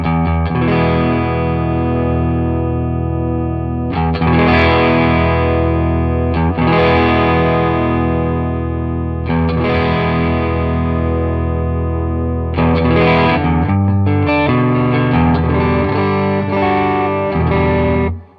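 Electric guitar run through an overdrive pedal, with the tone knob being turned between phrases, compared against Boss OD-1, SD-1 and Ibanez TS808 and TS9 units; loud, sustained driven chords and riffs in several bursts, no talking.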